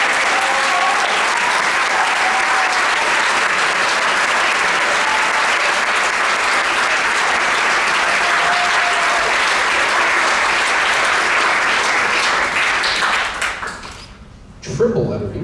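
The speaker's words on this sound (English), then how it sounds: "Give our double letter winners a round of applause" An audience at a high school orchestra awards ceremony for graduating seniors gives a loud, dense round of applause that holds steady for about fourteen seconds, then quickly thins out and fades.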